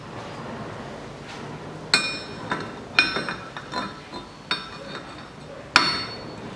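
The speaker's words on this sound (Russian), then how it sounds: "сдергиваю ступицу обратным молотком." Slide hammer striking while pulling the front right wheel hub off a Suzuki Every 0.7 during a hub bearing replacement, several sharp metallic clanks spaced a second or so apart with ringing tails, close by in a quiet garage.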